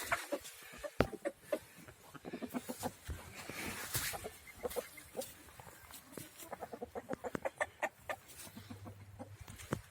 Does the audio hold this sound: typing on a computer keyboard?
no